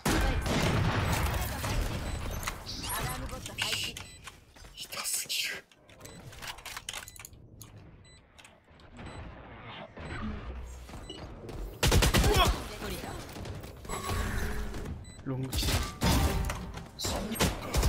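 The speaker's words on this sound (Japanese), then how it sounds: "グレネード展開。" Gunfire in a shooter video game, with bursts of shots and thuds coming and going in loud clusters around a quieter middle stretch, where a voice talks softly under the action.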